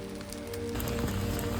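Steady rain falls on a bivouac in the Swiss Alps, a dense continuous patter that grows fuller and louder partway through, with no voices.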